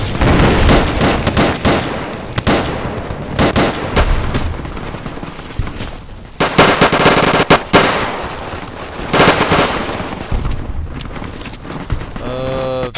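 Dense rapid automatic gunfire from a modded nail carbine in the Fallout video game, loud and continuous bursts mixed with game combat sounds and brief pauses.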